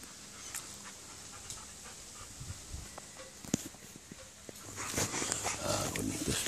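A dog pants steadily and close by, on its second day at home and the first time its muzzle is off, while a person speaks softly to it throughout.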